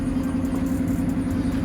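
A car with dual exhaust idles close by, giving a steady low burble with a constant hum throughout the brief stretch.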